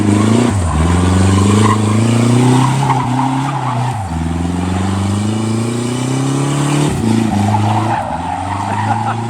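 A homemade Ka-T car spins its tires on a dyno, its engine droning and bogging under heavy torque while the tires squeal continuously, loud and close, with pitch dips and surges over several seconds.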